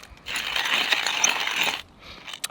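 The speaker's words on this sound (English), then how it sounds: "you can just put that in here and then just grind directly into the AeroPress" A hand coffee grinder crushes beans straight into an AeroPress outdoors on a mountaintop, making a loud, close, steady ratcheting crunch for about a second and a half before it stops, then a few brief clicks.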